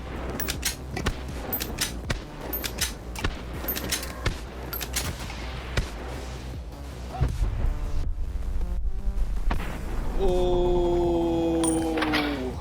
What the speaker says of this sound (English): Next up is the Glock Buckshot with extended mags